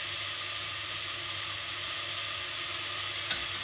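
Avocado oil sizzling steadily in a pan while mongo beans fry, a constant bright hiss with no talk.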